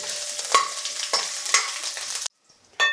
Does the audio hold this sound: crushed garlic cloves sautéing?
yes